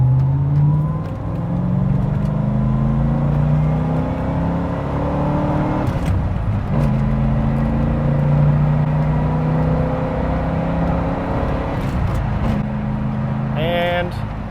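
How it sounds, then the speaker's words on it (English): A 1988 Corvette C4 35th Anniversary Special Edition with a manual gearbox floored in second gear on a highway on-ramp, engine drone steadily climbing in pitch from inside the cabin, with a brief shift-like break between rising pulls. "I'm gonna floor it in second"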